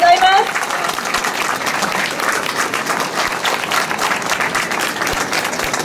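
A crowd claps at the awards ceremony of a latte art championship in Tokyo, steady loud applause sustained throughout, with a brief voice audible at the very start.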